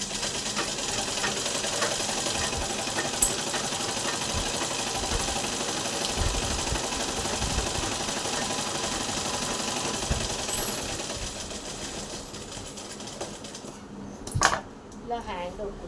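Sewing machine stitching a boat neck blouse, a steady continuous mechanical whir running throughout, moderately close, ending with a few brief clicks and bumps as it stops.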